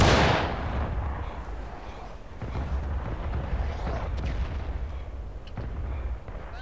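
Musket volleys and artillery booms crack and rumble across a battlefield in War of Rights, an initial loud blast followed by repeated distant and mid-range shots over a continuous smoky din, with no talk.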